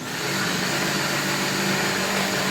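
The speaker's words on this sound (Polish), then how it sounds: "Teraz wszystkie składniki wrzucamy do blenderu, bo ja korzystam z blendera i zaczynamy pracować dalej." A countertop blender runs steadily, mixing a batter of milk and flour with a continuous, loud, even motor whir and no break or talk throughout.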